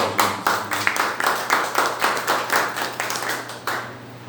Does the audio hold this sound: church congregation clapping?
yes